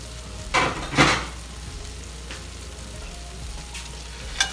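Cuban-style pork meatballs sizzle in a hot pan, a soft steady frying hiss broken by a few sharp scrapes and clinks of a utensil stirring them.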